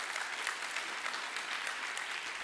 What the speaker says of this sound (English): Come on and clap your hands all over the room for that.